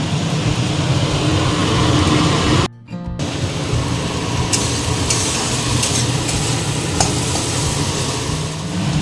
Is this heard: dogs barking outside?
no